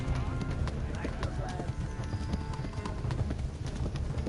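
Horse hooves gallop in the medieval video game Kingdom Come: Deliverance, a steady, dense drumming that runs throughout over a low rumble of ambient game sound.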